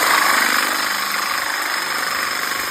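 An electric drill bores through tough steel at a door hinge, a steady high-pitched whine and grinding hum held without pause, loud and close.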